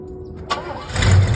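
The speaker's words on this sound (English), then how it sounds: "Let me try to crank this car up." The engine of an 1986 Pontiac Parisienne Safari station wagon cranks and catches after a click, rising into a loud rough start up close.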